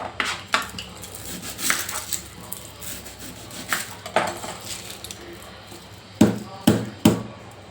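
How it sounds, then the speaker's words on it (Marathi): Knife chopping onion on a board in a home kitchen, a series of sharp irregular taps with a quick cluster of three near the end, fairly close, with a faint voice in the background. "मी आता पेटीची तयारी करून घेते कांदा चिरून घेते"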